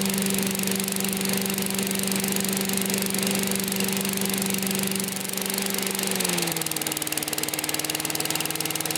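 A Briggs 200cc engine on a Simplicity leaf ground blower idles steadily, a loud, close mid-pitched drone with fan whoosh. Near the end the pitch drops slightly as the idle eases lower. No talking is heard.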